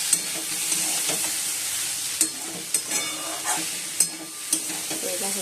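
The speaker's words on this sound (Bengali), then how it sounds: "এই মধ্যে উঠছে কুমড়ো আলু ভাজা বসিয়ে দিয়েছি।" Pumpkin and potato frying in a pan, a steady broadband sizzle with scattered sharp clicks and pops as pieces are stirred, close and moderately loud with no voices.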